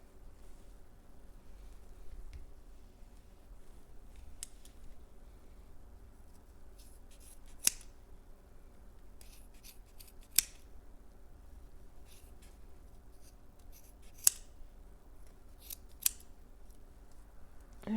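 Scissors snip yarn loops along the bottom edge of a crocheted ripple throw blanket, a handful of sharp, isolated close snips spaced seconds apart over quiet handling rustle.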